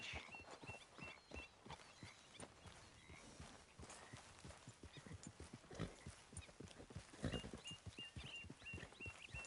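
Hooves of a horse clip-clop steadily along a beach path in Red Dead Redemption 2, a continuous walking rhythm mixed with soft ambient game noise and faint chirping, moderately quiet throughout.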